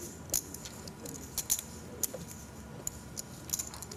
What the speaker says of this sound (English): He is counting out chips for a bet.